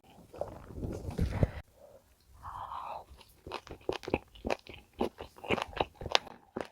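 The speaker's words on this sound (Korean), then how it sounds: "족발부터 먹을게요 이렇게 김치 싹 얹어가지고" Close, quiet mukbang eating of jokbal (pig's trotters) topped with kimchi: soft crunchy bites followed by a run of rhythmic wet chewing and smacking, with no talking.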